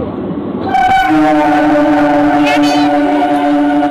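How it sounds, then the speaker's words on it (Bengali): A commuter train out of Habra comes in loud and close, rumbling steadily while a long horn blast sounds over it and keeps going to the end. "কারণ এই ট্রেনটা হাবড়া থেকেই ছাড়ে তো একদম ফাঁকা ট্রেন থাকে"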